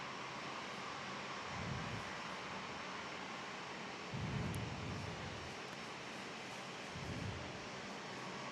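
A Jetstar airliner's engines at Perth Airport make a steady, distant roar with a broad hiss, swelling faintly a few times under the continuous noise.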